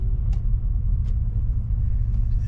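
A car with a 5.3-litre engine pulls hard away from a traffic light, heard as a steady, close, heavy low engine rumble with road noise throughout.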